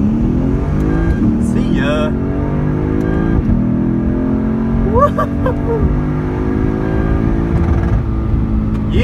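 Supercharged Dodge Magnum SRT8 on drag slicks launching hard at a drag strip, a loud engine roar climbing steadily in pitch through the run, with people calling out over the noise.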